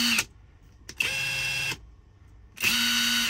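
A cordless Hercules impact wrench on speed one whirs in three short high-pitched bursts separated by brief quiet gaps, close by and fairly loud.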